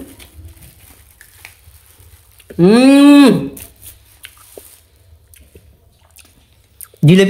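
Someone bites into and chews crunchy fried jalebi bought at a local fair, with soft close crunching and mouth sounds. A voice briefly cuts in loudly midway.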